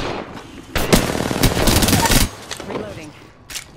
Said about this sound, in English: The enemies are shooting at me. Opening fire on the enemy.